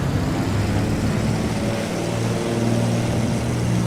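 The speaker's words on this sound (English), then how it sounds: "As you can see, the aircraft is actually very loud compared to when you're sitting in the cockpit." A De Havilland Beaver's radial engine roars steadily at full takeoff power in Microsoft Flight Simulator, a loud, constant drone with a low throbbing hum and broadband rush from start to finish, no voices.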